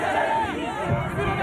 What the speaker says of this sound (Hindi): सड़क पर उतरे लोग नारेबाजी करते हुए आगे बढ़ते रहे।